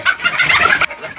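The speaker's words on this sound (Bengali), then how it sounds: "মুরগিগুলো খুবই ভালো দেখতে, পাকিস্তানি জাতের মুরগি।" Pakistani-breed tiger chickens on a poultry farm cluck and squawk in a dense, continuous flock chorus, fairly loud and close, cutting off abruptly near the end to a quieter background.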